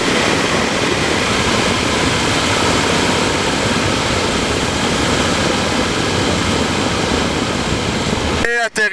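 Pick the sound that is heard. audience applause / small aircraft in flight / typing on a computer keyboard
small aircraft in flight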